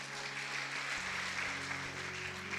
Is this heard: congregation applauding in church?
yes